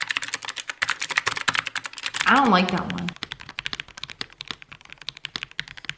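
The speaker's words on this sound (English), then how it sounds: "hearing somebody type on a keyboard, it sounds nice" Rapid typing on an inexpensive computer keyboard, a dense run of close, crisp key clicks that briefly stops while a person speaks, then resumes lighter and more scattered.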